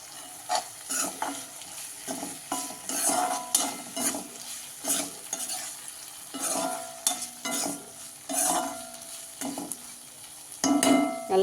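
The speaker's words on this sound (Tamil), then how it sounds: "தக்காளியும் நல்லா வதங்கி வரட்டும், வேகணும்." Onions and tomatoes sautéing with rock salt in a pan for a baby jackfruit masala fry: repeated scraping stir strokes over a steady sizzle, close and fairly loud, with clinks of a metal spoon against the pan.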